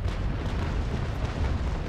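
Heavy cannon broadside from ships in the Naval Action naval battle game, a continuous dense rumble of overlapping booms with no distinct gaps, loud and sustained throughout.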